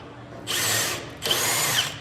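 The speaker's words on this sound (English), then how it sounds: "Drilling, tapping the body." A power drill bores into a car body during wiring work on a Jeep-style build. It gives two loud, close, whining bursts, each lasting under a second, with a short pause between them.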